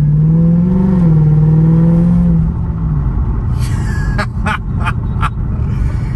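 Old car accelerating in sport mode, a close engine rising and falling in pitch as it revs, then easing off into a lower rumble with a few sharp knocks and clicks near the end.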